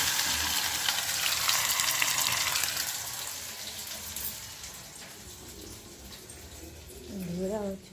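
Onions being fried in a generous amount of oil for a home meal: a steady, bright sizzle fills most of the stretch, easing off toward the end, where a voice briefly speaks over it.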